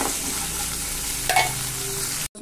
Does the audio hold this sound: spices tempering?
yes